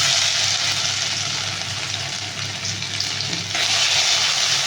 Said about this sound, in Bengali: অল্প করে জিরে দিয়ে একটু ভাজা করে নিয়ে আর এতে আদাটাকে দিয়ে দেবো